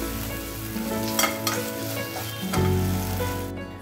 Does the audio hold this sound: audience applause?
no